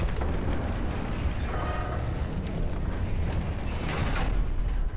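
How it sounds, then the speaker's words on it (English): A huge Titan device door from World of Warcraft grinding and rumbling continuously, with mechanical ratcheting and gear-like churning under a dense, loud roar. "that's a really, really big door and a Titan device"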